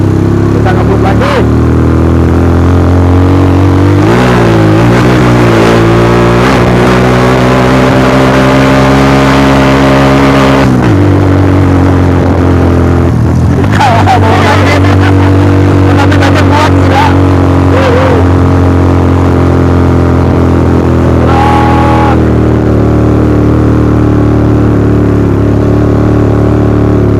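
Motorcycle climbing a steep mountain road near Puncrut, Lembang in Bandung in first and second gear, its engine note rising and holding loud and close, with a brief drop and throttle changes midway, while a rider talks over it.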